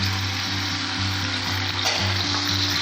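Cauliflower florets fry in a pan for gobi anda bhurji, a steady crackling sizzle close up with a low repeating hum underneath and a brief stir or clatter near the end.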